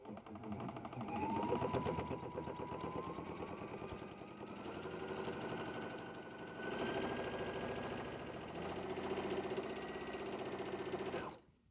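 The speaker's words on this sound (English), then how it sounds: "we're going to step to our machine and we're going to add a top stitch right here along the top of our seams" A sewing machine top-stitches along pocket seams in a rapid, steady mechanical whir, close and loud in long runs with short pauses and a slowing stop at the end.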